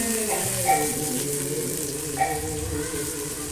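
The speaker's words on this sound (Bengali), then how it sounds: "এই যে প্রথমে আলুটা ভেজে নিচ্ছি" Potatoes fry in oil with a steady, close sizzle, joined by faint background voices and a brief clink or two, at a home event where a meal is being prepared.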